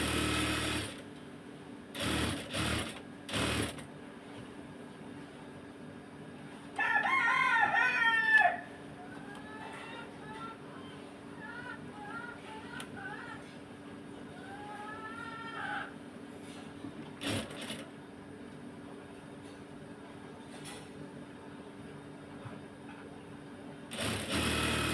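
Sewing machine stitching a shirt in short, quiet running bursts at the start and end, while a rooster crows and clucks repeatedly in the background between them.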